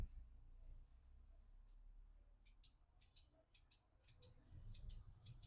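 Quiet scissor snips trimming a Shih Tzu's facial hair around the eyebrows and fringe, a run of short crisp clicks coming in irregular bursts over a faint low background.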